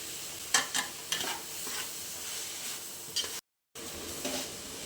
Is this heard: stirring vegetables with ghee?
yes